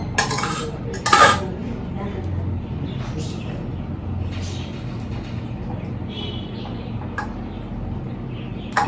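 Cutlery clinking against a plate while cutting and eating a simple egg omelette, a couple of sharp metallic scrapes early then quieter intermittent taps over a steady room hum; no talking.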